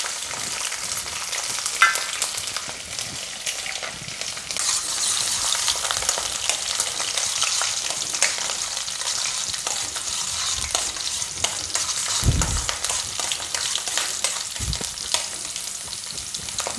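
Garlic frying in hot oil with mustard seeds and dried chilli for a lemon pickle, a steady close sizzle broken by scraping stirs and occasional soft knocks of a spoon against the pan, with no talking.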